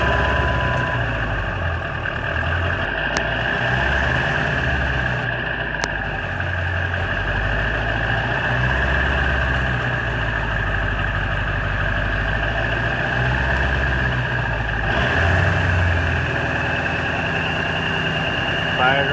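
A Ford 7.3 Powerstroke diesel with new injectors idles after a cold start in the 30s, following a week plugged in. The engine runs loud and close with a steady, rough clatter throughout, and a voice speaks over it.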